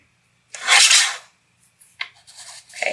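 Card paper for a Christmas card being trimmed: one loud, close rasping cut of about half a second, then a few shorter, fainter scraping snips.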